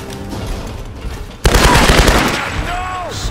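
Gunfire in the Tomb Raider video game, with a sudden loud burst of rapid shots that cuts in midway and keeps crackling over a busy game soundscape, with no voices.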